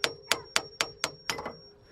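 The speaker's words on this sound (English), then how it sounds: "what we're gonna do is hammer these until they're locked tight" A small hammer gently taps a metal coilover lock ring, six crisp, evenly spaced metallic strikes close to the microphone, ringing briefly and tapering off at the end.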